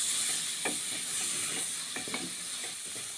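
A tomato, chili and coriander masala for a fish curry fries in a pan with steady, bright sizzling, while a spoon stirs and scrapes it in a few distinct strokes up close.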